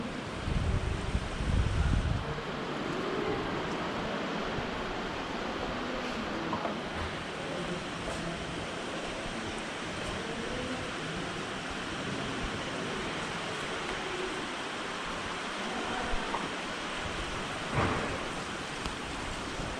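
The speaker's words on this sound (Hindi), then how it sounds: "बहुत ज़्यादा तेज़ बारिश आ रही है" Heavy, unbroken rain pours around Narsingh temple in Joshimath, a steady dense hiss with wind buffeting the microphone and low thunder rumbling near the start and again later.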